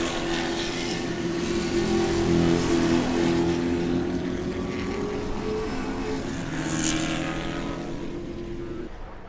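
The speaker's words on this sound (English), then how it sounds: "Close race in Spec Corvette. Those guys are having a good race." Spec Corvette race cars in an SCCA race at Daytona, a sustained engine drone from cars running at speed, fairly distant and steady with slight shifts in pitch, faint voices underneath.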